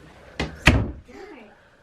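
An indoor door is closed at night in a family home, two quick solid thumps close together, followed by faint voices talking in the background.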